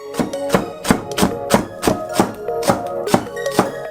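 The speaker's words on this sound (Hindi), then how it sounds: "हम एक छोटा हरा प्याज लेते हैं, इसे हल्का काट कर" A knife chops a small green onion on a cutting board: steady, evenly spaced sharp taps, about ten in four seconds, close and clear with no talk.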